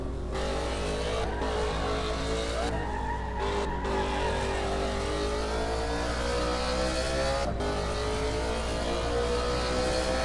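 A BMW M3 E92 in the Assetto Corsa racing game revs hard through the gears with rising and falling engine pitch, brief tire squeal and shift cuts, loud and steady with no talk.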